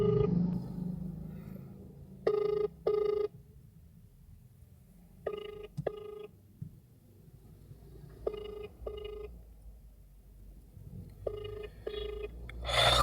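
An outgoing phone call rings out unanswered: a double-burst ringback tone repeats four times at roughly three-second intervals over faint background noise, with no talking.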